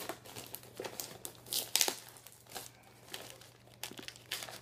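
Wrapping paper on a mailed Hot Wheels package being crinkled and torn open, bursts of crisp rustling and tearing in an irregular rhythm, close and fairly quiet, with a faint steady hum underneath.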